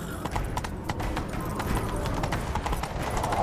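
Geralt's horse Roach gallops in The Witcher 3, a steady, close clip-clop of hooves over a rumbling background.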